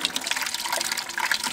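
Water draining from an aquaponic bell siphon in a small system, a close, steady gurgling rush with bubbly splashing that runs unbroken throughout.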